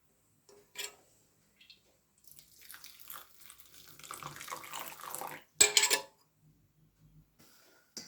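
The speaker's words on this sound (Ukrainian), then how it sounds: "Ізюм треба залити водою гарячою" Hot water is poured over raisins in a kitchen while preparing Easter paska dough: scattered light clinks, then a short trickling pour and a louder splash, set against near silence.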